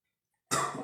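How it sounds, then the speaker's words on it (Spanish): A single cough from a man indoors starts abruptly after a moment of silence. It is close and fairly loud, with a rough, breathy tail that fades out. "esa tos es por el agua"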